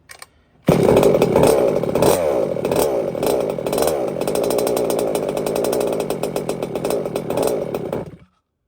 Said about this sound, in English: Here's a little sound test of it. Now, I got her running pretty rich